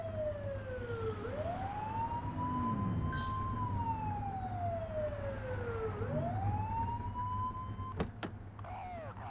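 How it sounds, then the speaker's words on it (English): A police car siren in The Precinct, a police video game, wails in long rising and falling sweeps over a steady engine drone, loud and close throughout. "Get on their tail and flip the siren."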